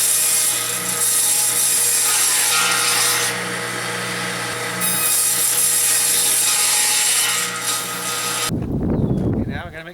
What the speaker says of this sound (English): Make sure you wear your dust mask when you're cutting gyprock on a table saw